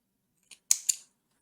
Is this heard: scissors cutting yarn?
yes